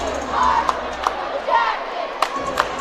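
Fans at a high school basketball playoff game roar in a sustained crowd cheer, with shouts and a few sharp whistles or claps popping out above the steady din.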